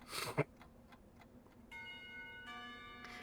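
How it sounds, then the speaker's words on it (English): Faint bell-like electronic chimes of school bells in a video game ring in sustained tones after a brief knock, quiet and steady. "The bells ring for lunch break, startling me back into reality."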